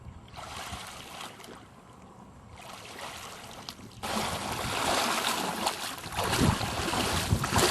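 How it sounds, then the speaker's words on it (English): Water sloshing and gurgling as a swimmer's chest waders fill up, with wind buffeting the microphone, quieter at first and then growing louder and rougher with splashing in the second half. "I think now I'll let them fill up with water."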